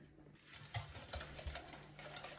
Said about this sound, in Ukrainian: Взяли яйця, збиваємо, додаємо цукор